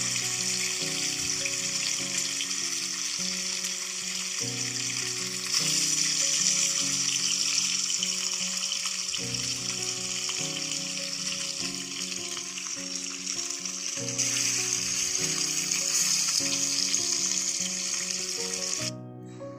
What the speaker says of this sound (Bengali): তো মাছগুলো যতটুকু সময় নেবে ভাজার, ততটুকু সময় আমাকে ভেজে নিতে হবে